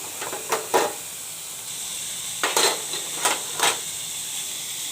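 Thinly sliced carrot and broccoli sizzle as they are stir-fried in a pan for a vegetable frankie, with a steady hiss broken by several sharp bursts of spatter and stirring clatter.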